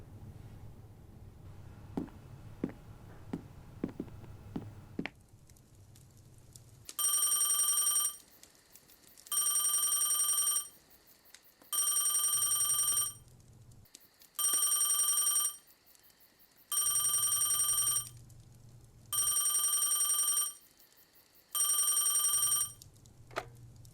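A telephone rings in repeated bursts, about seven rings with short pauses between, loud and close, after a few soft taps at the start.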